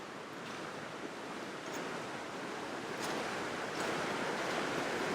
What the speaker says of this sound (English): That's the river right there.